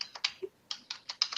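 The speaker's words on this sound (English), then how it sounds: "Who's typing?" Close, loud typing on a computer keyboard, a quick uneven run of about ten sharp clacking keystrokes in a quiet room with no talking.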